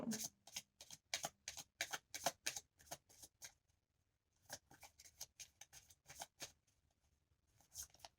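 Tarot cards are shuffled by hand in quick, crisp riffling bursts, close and quiet, with a short pause before another run of rapid flicks.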